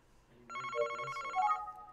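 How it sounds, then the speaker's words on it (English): A telephone rings in the video game Famicom Detective Club, a single electronic bell-like trill that starts after a short quiet moment and holds steadily for about a second. "The phone is ringing."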